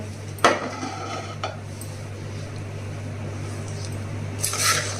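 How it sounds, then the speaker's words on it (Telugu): Raw mango and tomato pickle being mixed in a dish, a few sharp utensil clinks and scrapes over a low steady hum, quiet and close with no voices. "ఇప్పుడు బాగా కలపాలండి"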